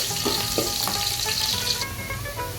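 Garlic frying in hot oil in a pan, a steady close sizzle with light stirring clinks.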